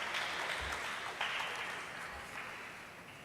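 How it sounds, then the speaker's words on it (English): Audience applause at a Shark Angels event, a steady wash of many hands clapping that swells briefly and then fades slightly, fairly distant and even. "Can we please have a round of applause for him also?"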